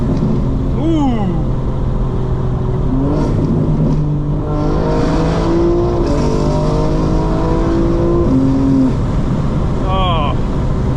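A 2025 BMW M4 Competition xDrive driving on a warm summer night, engine revving and rising through gears in a steady, loud run with shifting pitch sweeps, heard from inside the car.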